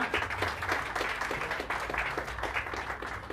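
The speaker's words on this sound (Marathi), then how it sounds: "जोरदार टाळ्या होऊ द्या" A crowd applauds steadily and fairly loudly at a formal ceremony opening a state-level consumer protection convention. The clapping is dense and continuous, with no speech over it.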